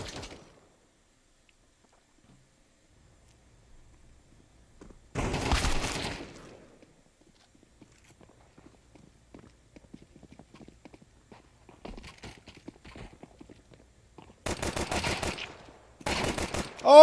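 Bursts of rapid video-game gunfire crackle in short volleys, one early and two close together near the end, separated by long quiet stretches with faint low scattered noises.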